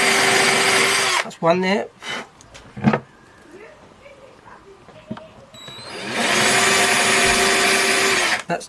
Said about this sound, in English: we're putting our 3mm drill bit back in the drill, and so we can pilot hole these little feet